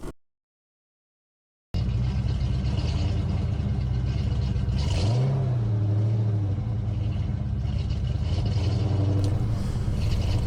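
A Foxbody Mustang V8 with a cheap Jegs exhaust kit rumbles and revs with a deep, throaty note after a short silence, the pitch rising and falling through steady idling.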